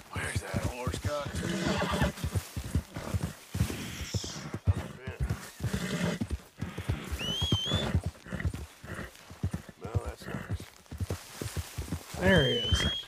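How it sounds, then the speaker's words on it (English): A horse in the Red Dead Redemption II video game whinnies several times while hooves clip-clop along, mixed with game ambience and frequent male speech over the top. "Where's that horse got?"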